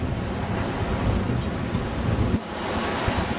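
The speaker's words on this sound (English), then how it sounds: "We're here in Winnifred Beach, one of the most famous beaches in Jamaica." Ocean waves wash onto Winnifred Beach in Jamaica, a loud, continuous surf roar mixed with heavy wind buffeting the microphone, with no voices.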